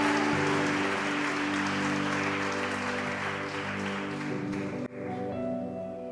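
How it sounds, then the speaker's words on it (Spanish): A church congregation applauds during a sermon, the clapping a broad steady roar beneath sustained organ or keyboard chords, with a brief dropout near the end before the music resumes. "denle un aplauso al Rey, por favor"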